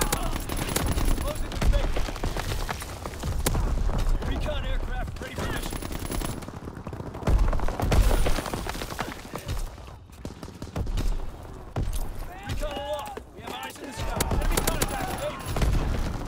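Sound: division artillery firing in a video game

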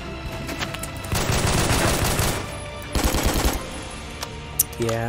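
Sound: gun firing in a video game

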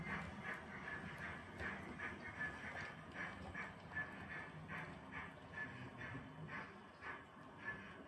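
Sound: train drawing into Stockport Tiviot Dale station

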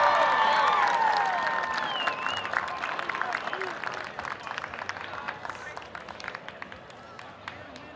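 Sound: crowd applause

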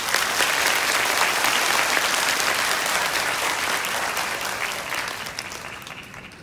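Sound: audience applause welcoming the minister

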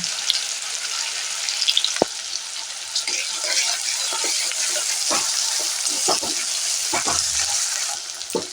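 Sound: onion and garlic paste frying in oil

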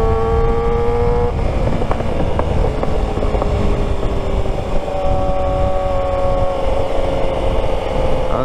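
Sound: superbike exhaust pops while riding

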